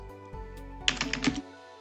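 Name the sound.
typing a command on a computer keyboard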